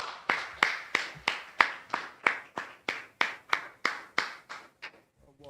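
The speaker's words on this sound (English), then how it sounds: "clap it up" Hand clapping from a group at a scripture study gathering, about fifteen sharp, evenly spaced claps in a steady unison rhythm that ends abruptly, with no talk over it.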